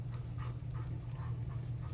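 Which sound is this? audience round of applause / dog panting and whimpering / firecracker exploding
dog panting and whimpering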